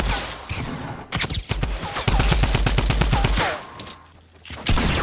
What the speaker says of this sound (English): A heavy shotgun.